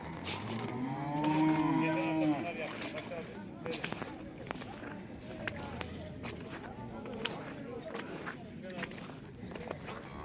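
Cattle low with long, loud moos near the start at an outdoor livestock market in Yıldızeli, Sivas, Turkey, on a cold snowy day, followed by scattered footsteps, thumps and distant animal sounds, with people talking in the background.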